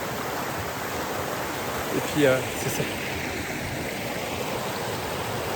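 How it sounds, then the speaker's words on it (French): Steady, full broadband rush of a small waterfall close by, continuous and even throughout, with a brief spoken phrase partway through. "la petite cascade derrière"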